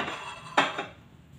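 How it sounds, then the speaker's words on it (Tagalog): Household plates are picked up and clink together in one sharp ceramic knock followed by a softer second clatter, close and quiet. "So, kunin ko muna ito mga pinggan."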